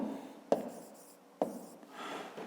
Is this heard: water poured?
no